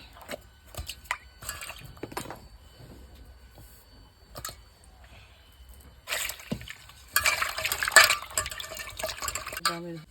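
Soft wet sounds of roasted mangoes being peeled in a bowl of water for a mango drink, with drips and quiet handling, louder splashing toward the end, while someone talks.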